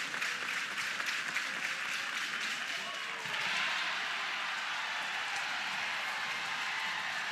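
A crowd at a college softball tournament game between Oklahoma and Cal cheers and applauds in a sustained roar that swells partway through, with voices talking over it.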